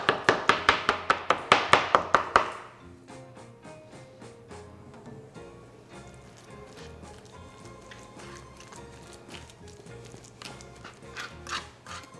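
Wet squishing and soft mashing taps on a cutting board as avocado is mashed for guacamole: a quick run of rhythmic thumps, then steady softer squelching and scraping, close up.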